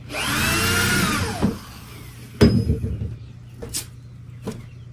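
A power drill whirs for over a second while building a chicken coop, followed by a few short knocks and brief tool bursts in a quiet room.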